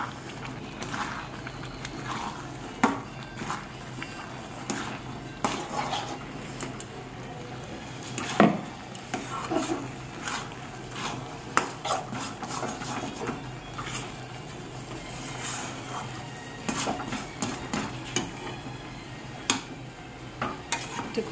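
Puffed rice powder being stirred into jaggery in a pan, with repeated scraping and tapping strokes of a spoon against the metal and a faint sizzle underneath, close and steady with no talking.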